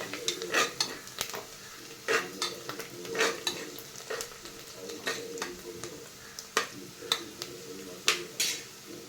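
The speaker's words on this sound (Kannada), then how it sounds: "ಸೊ ಫ್ರೈ ಆಗತೈತ್ರಿ ಇದೀಗ" Onions for donne biryani frying in a pan, with a soft steady sizzle under repeated scrapes and clinks of a utensil stirring against the metal.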